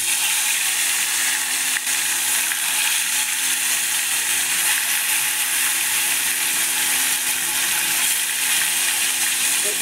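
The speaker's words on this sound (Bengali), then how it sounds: "এখানে আমার কড়াইয়ে তেল গরম হয়ে গেছে। তো আমি একে একে মাছগুলো কড়াইয়ে ছেড়ে দেবো।" Rohu fish, coated in turmeric and salt, fry in hot oil in a kadai, giving a steady, loud, dense sizzle that crackles evenly throughout with no talking.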